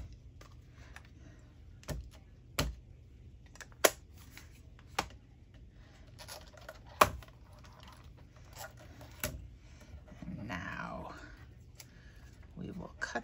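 Scissors snip around a stamped paper image in a crafting session, sharp isolated cuts spaced a second or two apart, quiet and close, with faint movement in between.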